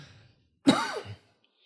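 A single soft, breathy cough, close by and fairly quiet, with silence on either side.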